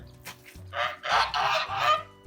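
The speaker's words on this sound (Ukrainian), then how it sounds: "Гуси трошки гігають, не дадуть нам зняти." Several geese honk loudly in overlapping bursts, with a low steady hum running underneath.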